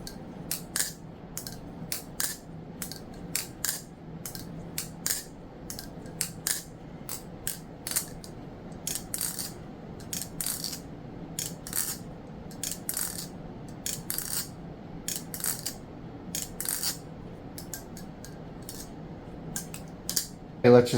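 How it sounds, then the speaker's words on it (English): A Bxndxgeknives Stitch balisong is flipped dry, without lubricant, giving rapid, crisp metallic clicks and clacks in irregular bursts, close and distinct against a quiet background. "So here's the sound test of the stitch while it's dry in its current state."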